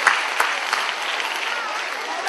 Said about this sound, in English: So big round of applause for all you guys.